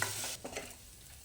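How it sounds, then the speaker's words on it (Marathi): Boiled potato pieces are stirred into a prepared spice masala for Kolhapuri katvada, a short soft scrape and mushy stir heard faintly up close with no talking. "तयार मसाल्यामध्ये आपण जे बटाटे घेतले होते उकडून त्याच्या फोडी घालून घेऊया आणि हे चांगलं मिसळून घेऊया"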